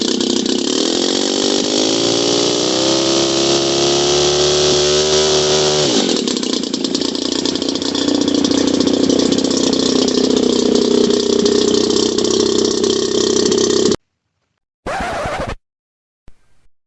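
An AliExpress paramotor engine sputters to life and settles into a loud, steady buzzing idle with a rough rattle, then cuts out, followed by brief bursts of noise.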